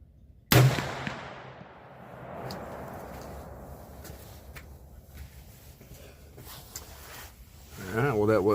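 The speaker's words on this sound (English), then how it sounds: "So this will be our first shot." A single sharp, loud rifle shot from a Smith & Wesson 1854 cracks out early, then echoes and decays across an open range, followed by faint rustling and a voice talking near the end.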